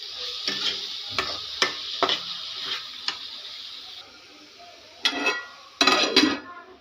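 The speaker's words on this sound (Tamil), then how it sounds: "இப்போ ஒரு டைம் நல்லா கலக்கி விடலாம்." Ponnanganni greens being stirred in a pan, a run of rhythmic spoon taps and scrapes against metal over a soft sizzle, a pause, then a few louder clattering strokes near the end, close up and no talk.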